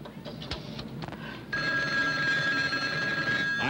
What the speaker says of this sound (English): I'm about to make a phone call.